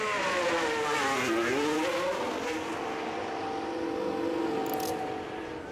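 A 2026-spec Aston Martin Formula 1 car in the game F1 Manager pulls away at Japan, its high engine whine climbing and dipping through gear changes, loud and steady throughout.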